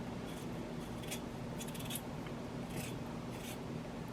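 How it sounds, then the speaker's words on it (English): A knife scrapes and shaves peel from a potato by hand in a home kitchen, a close, steady rasping with a few sharper strokes standing out, no voices. "this is the way I peel potatoes"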